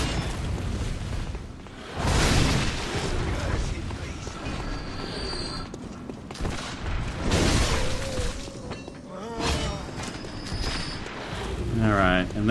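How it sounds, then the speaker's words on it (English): Gunshots ring out in the Bloodborne video game's Forbidden Woods: several loud booming shots among other combat clatter, with someone talking over much of it. "Stay away from all these gunshots."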